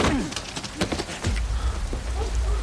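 Rain pours steadily in a dramatic outdoor scene of the TV series Dark, a dense continuous hiss with scattered heavier drops and low rumbling underneath.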